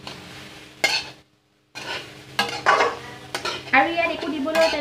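Turmeric and salt being stirred into a pan with a utensil, scraping and clinking against the metal in several bursts with a brief pause, close and moderately loud, no speech.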